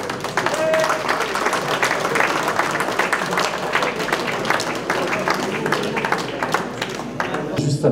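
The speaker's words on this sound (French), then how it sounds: "On applaudit encore très fort" A crowd at a 40th anniversary celebration gives loud continuous applause for an honoured guest, dense clapping filling the room throughout, with a voice at the very end.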